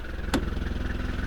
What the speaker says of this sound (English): the engines are noisy